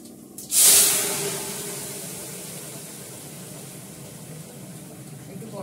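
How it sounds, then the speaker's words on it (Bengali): Spices hit hot oil for tempering dal, bursting into a loud, sharp sizzle that peaks at once and then settles into a steady, softer frying hiss that continues to the end. "ততক্ষণ ডালটা এদিকে ফোড়ন দিয়ে দিই।"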